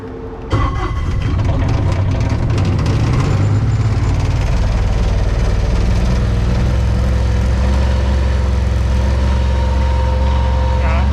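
A diesel engine on a rain water collection rig starts after its glow plugs are heated, then runs at a loud, steady idle that continues alone to the end.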